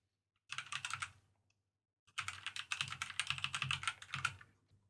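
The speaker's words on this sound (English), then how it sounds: "Go ahead and type in your debit card details." Debit card details are typed on a computer keyboard in two close, crisp bursts of rapid keystrokes separated by a brief pause, quiet and alone with no voices.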